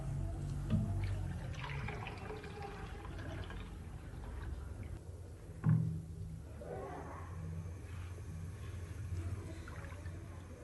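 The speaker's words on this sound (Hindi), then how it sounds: "और मैं अब इसमें 2 किलो पानी शामिल कर रहा हूँ।" Water is poured into a pot of Pakistani street-style kari pakora curry, a soft, steady wash of liquid noise with a brief louder splash partway through.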